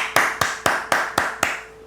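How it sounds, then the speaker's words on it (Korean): Six sharp hand claps in an even, steady rhythm, close and loud, each with a brief room echo, fading to quiet at the end. "박수 한번 주시죠."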